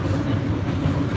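Passenger train on the Colebrookdale Railroad rolling along its tracks, a loud, steady low rumble with continuous rattling of the cars and no clear talk.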